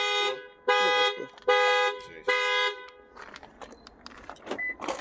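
A 2013 Lexus ES350's panic alarm sounds four loud, evenly spaced horn honks close by, followed by softer clicks and handling noises.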